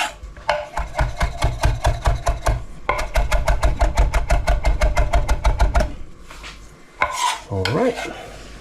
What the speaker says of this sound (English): And just chop the parsley.